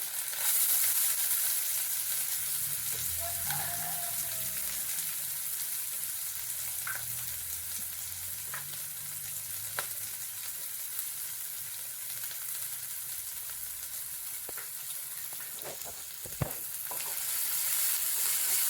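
Ginger and shallots sautéing in a pan, a soft, steady hiss with occasional faint clicks and stirs, no voices, for a long, even stretch.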